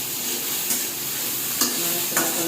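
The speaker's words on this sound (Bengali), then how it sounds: "টমেটো দিয়ে 1 মিনিট নাড়াচাড়া করবো" Tomatoes frying and sizzling in a pan while being stirred, a steady close sizzle with a few brief scraping clatters of the spoon against the pan.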